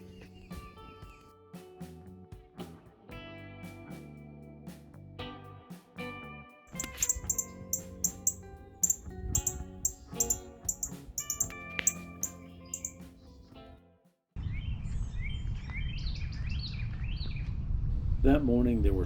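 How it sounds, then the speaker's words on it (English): Many birds chirping and singing in the morning at a lakeside campsite, dense overlapping calls that grow louder midway before giving way to a steady wash of sound. "That morning there were so many birds, it was loud."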